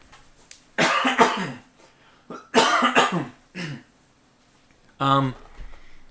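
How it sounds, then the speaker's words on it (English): Someone nearby clears their throat in a few short, rough bursts with pauses between them, ending with one harsher voiced hack. "I have to clear my throat, excuse me."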